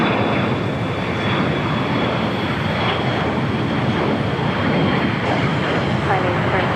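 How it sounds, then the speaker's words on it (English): An All Nippon Airways 787-9 Dreamliner taxiing at LAX produces a continuous broadband jet-engine rumble and hiss that holds steady and fairly loud throughout. "There's the Dreamliner now on taxiway Bravo heading to 25 right."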